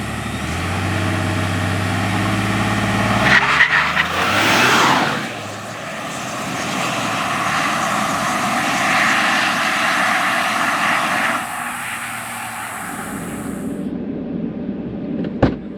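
A Ford F-150 PowerBoost truck with a custom tune accelerates hard, producing a loud, sustained roaring rush of engine and road noise that swells, holds steady and then cuts away near the end.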